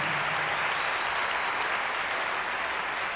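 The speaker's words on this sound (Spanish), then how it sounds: "quiero que se den un aplauso," A comedy show audience claps and applauds in a steady, dense wash of many hands, sustained and fairly loud throughout with no break.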